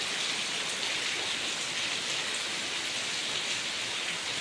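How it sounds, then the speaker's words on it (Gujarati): Heavy rain pours down in a dense, unbroken roar, loud and constant with no other sounds. "તો અત્યારે વરસાદ ધમધોકાર પડી રહ્યો છે."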